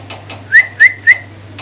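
A pair of black checker racing pigeons is nearby as three short rising whistle-like chirps come in quick, evenly spaced succession, clear and close, with soft fluttery ticks and a low hum underneath.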